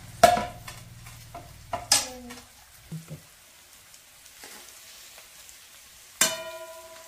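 Potato bhaji in a pan gets stirred with a utensil, giving a few sharp scraping clinks and taps spaced apart over a faint sizzle, close and fairly quiet, with no voices.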